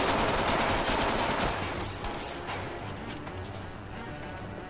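Rapid automatic gunfire from the third-person shooter video game MindJack, dense bursts of shots in a firefight with overlapping reports, loud at first and easing slightly over the clip.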